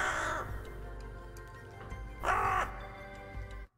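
Crows cawing in a few loud, harsh bursts, with a strong call at the start and another near the end, heard close over a low background hum.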